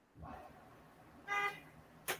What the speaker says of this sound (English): Yeah, it sounds like a car.